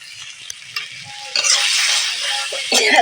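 Onion, garlic, ginger, cumin and coriander being sautéed for a Bengali fish curry, with loud close sizzling and frying that swells as a spoon stirs and scrapes the pan, plus a few clinks.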